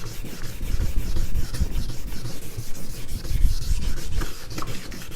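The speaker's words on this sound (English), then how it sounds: "put your finger along that curve and sand it" Folded sandpaper rubs back and forth by hand over a curved panel, a close, continuous scratchy scrubbing during paint prep work.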